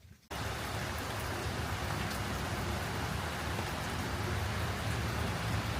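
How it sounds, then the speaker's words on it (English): Relentless rain from an atmospheric river in Oregon pours down in a dense, steady roar, close and unbroken from start to finish with no voices. "Yeah, the rain's just relentless."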